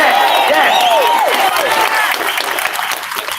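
A crowd at an outdoor lockdown protest in Trafalgar Square, London, applauds steadily and loudly, with whoops and cheers rising over the clapping before it gradually tapers off.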